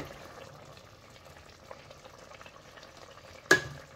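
Spinach and urad dal cooking in a pan: a soft, low sizzle with quiet stirring, ending in a sudden sharp clack of a utensil against the pan.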